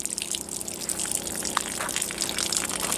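Water gushes out of a bullet-pierced water jug in a steady, splashing outdoor stream, a continuous noisy rush with faint trickling detail and no talk.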